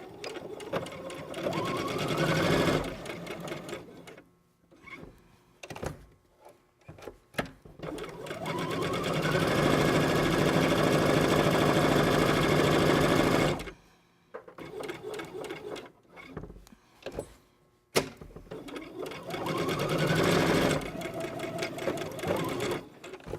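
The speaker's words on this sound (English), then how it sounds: "We're going to stitch the 3 sides that don't have the fold at 5/8 of an inch." A sewing machine stitches three sides of a shirt collar at a 5/8-inch seam, running in several long bursts separated by quiet gaps with small handling clicks, close and steady.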